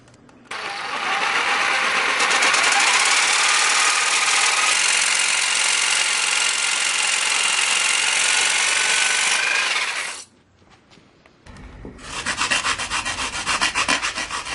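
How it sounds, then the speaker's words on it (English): A jigsaw buzzes loudly and steadily through an etched circuit board for about ten seconds, stops abruptly, then starts again more roughly. "I'll use a jigsaw to remove most of the material."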